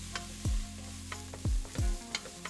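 Diced red onions and shallots fry in hot avocado oil, a soft steady sizzle broken by three heavy low scrapes of a spoon or spatula stirring the pan, with a few lighter clinks between.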